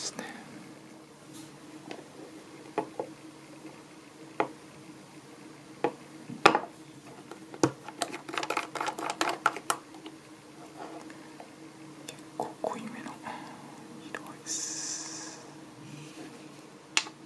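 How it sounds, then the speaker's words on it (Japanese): A box opens and the cap comes off a Burberry fountain pen: quiet, scattered clicks, taps and small snaps, a few slightly sharper, spread over a soft low background. "そして箱から開ける音、そしてこちらのキャップを開ける音、それぞれが心地いいですね。"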